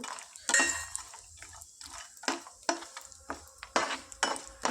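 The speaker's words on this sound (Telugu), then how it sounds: "కొద్దిగా నెయ్యి వేసుకొని జీడిపప్పును కిస్మిస్లు ఫ్రై చేసుకుందాం" Cashews and raisins frying in ghee in a pan, with a spoon repeatedly clinking and scraping against the metal over a faint sizzle, in quick irregular strokes close by.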